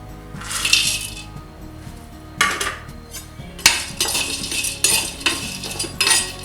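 Cloves, star anise and cardamom are dry roasted together in a pan for a hotel-style Madurai mutton chukka masala powder, with close, intermittent metallic clinks and scrapes as they are stirred and no voices.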